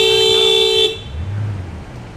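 A car horn sounds outside in one sustained honk lasting about a second, then cuts off, leaving the low rumble of passing traffic.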